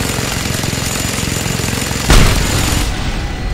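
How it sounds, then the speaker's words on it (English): A mounted gun in Just Cause 2 firing in a rapid, steady rhythm of loud close shots, with one heavier blast punching through partway. "Curses! Another mounted gun!"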